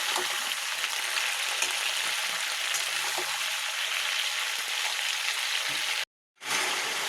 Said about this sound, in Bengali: মশলাটা দিয়ে একটু নাড়াচাড়া করে নিয়েছি।